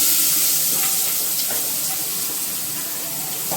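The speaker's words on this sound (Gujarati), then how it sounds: "હવે જો આ બધું વઘારવાનું ચાલુ કર્યું મમ્મીએ" Chopped onion, tomato and chili tempering in hot oil with spices, a loud continuous sizzling hiss that steadies and fades slightly, with no talk over it.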